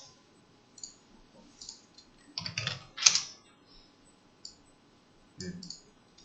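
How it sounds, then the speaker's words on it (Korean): Quiet, irregular clicks of typing on a computer keyboard, in short bursts with pauses, close by. "키보드로 명령어 입력하죠."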